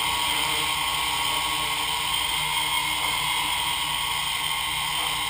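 A small drone's electric motors whine steadily while it hovers under added throttle, a constant loud buzzing hum with layered high-pitched tones and no pauses.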